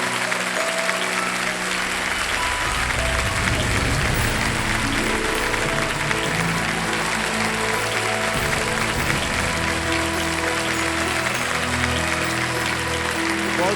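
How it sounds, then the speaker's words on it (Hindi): Loud, sustained studio audience applause on the Kaun Banega Crorepati set, dense clapping filling the whole stretch with steady intensity and some music or tonal sound woven underneath. "एक बार फिर जोरदार तालियां बाबा की बेटियों के लिए"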